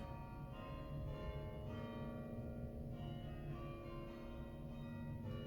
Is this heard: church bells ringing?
yes